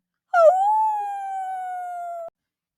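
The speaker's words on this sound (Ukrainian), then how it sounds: "песик посеред ночі починав вити" A single dog howls alone in the middle of the night, a loud sustained tonal wail lasting about two seconds, starting with a brief rising yelp and then holding a steady, slowly falling pitch before cutting off.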